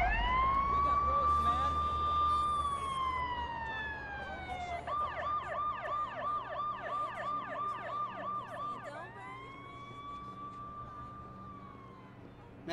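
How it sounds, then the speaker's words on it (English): An ambulance siren in the video game Watch Dogs wails, sweeping up and down, then switches to a rapid yelp pattern before returning to a slow wail, fairly loud and near. "Oh, it's an ambulance."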